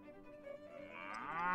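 Cattle low and moo in the video game Mount & Blade: Warband, a sustained lowing call that swells louder toward the end, standing alone with no talk.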